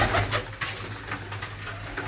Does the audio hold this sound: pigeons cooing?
yes